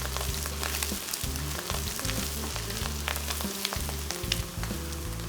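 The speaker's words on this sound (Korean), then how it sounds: "들기름이 스팸과 묵은지에 가득 배이도록 볶아주세요." Spam and aged kimchi stir-frying in perilla oil over high heat, a steady close sizzle with frequent scraping and stirring strokes throughout, no voices.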